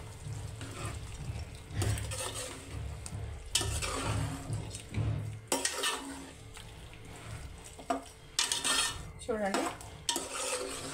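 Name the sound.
frying ginger garlic paste in a pan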